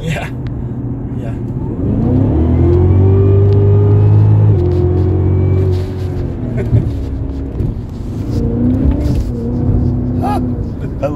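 A Cadillac CTS-V with a Z06 engine accelerates hard, its deep engine rumble swelling into a loud, sustained roar with rising pitch, heard from inside the car while passengers talk over it.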